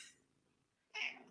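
A house cat gives a short, sharp meow that bursts in near the end of a brief, otherwise quiet stretch.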